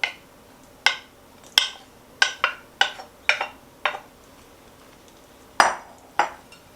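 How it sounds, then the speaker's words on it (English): Cooked, drained pasta tumbles into a large bowl as a series of sharp clinks and soft thuds, about a dozen separate hits spread irregularly, each ringing briefly before fading, with no talking. "in a large bowl, I'm going to add my 1½ cups of pasta that's been cooked and drained"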